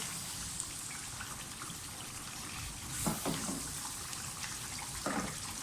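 Chicken frying in a masala of yogurt and tomatoes for murgh chanay gives a quiet, steady sizzle with soft crackles and a few brief louder pops.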